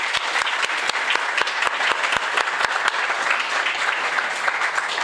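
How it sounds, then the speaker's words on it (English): Steady, dense applause from an audience honouring hurricane relief volunteers at a thank-you celebration, many hands clapping continuously at moderate loudness for several seconds, with a few sharper claps standing out. "So again, a round of applause for them."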